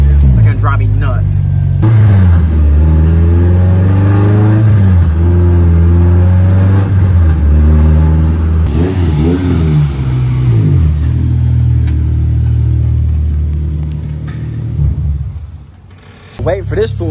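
A race car out of alignment at Atlanta Motorsports Park, its engine droning close by and rising and falling in pitch through repeated revs and shifts over a steady low rumble, before fading near the end.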